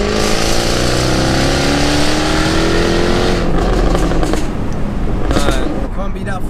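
A methanol-injected, roughly 700 bhp Jaguar F-Type S sports car with an eight-speed gearbox revs hard and accelerates, its loud engine note climbing steadily. Sharp crackles and pops from the exhaust burst out near the end.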